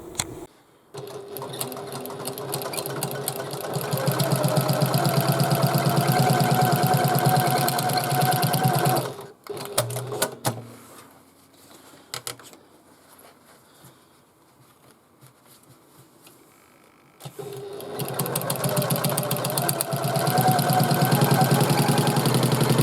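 A sewing machine stitches the sides of a fabric bag pocket in fast, even mechanical bursts: a long run, a pause with small handling clicks, then another steady run of stitching.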